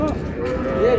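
A dairy cow with her calf at the Raniganj cattle market in Dinajpur lets out a low, drawn-out moo close by, over a busy background of market voices and crowd murmur.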